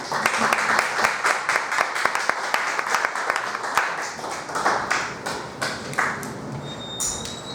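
A small audience at a poetry open mic gives a poet sparse, uneven applause, with distinct individual claps that gradually thin and fade toward the end.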